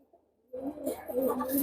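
Teddy pigeons kept in a loft collection coo in low, soft, rolling calls that begin after a short quiet pause and continue steadily nearby.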